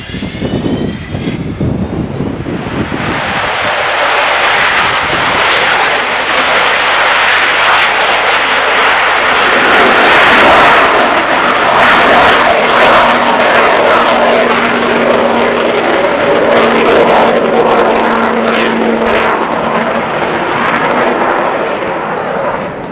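Avro Vulcan jet bomber engines roar continuously, a loud, sustained broadband rumble building over the first seconds and holding steady, with a faint droning tone running underneath.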